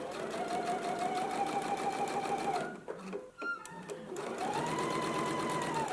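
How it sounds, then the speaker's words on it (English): A sewing machine stitches binding along a garment neckline, running steadily and close, pausing briefly with small clicks and handling noises before resuming the rapid stitching. "we're going to stitch this in a 1/2 inch seam allowance"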